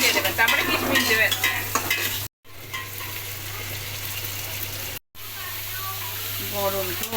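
Vegetables and raisins are stir-fried for fried rice, with a steady loud sizzle and scraping stirring that runs through the clip, broken by two brief silent cuts.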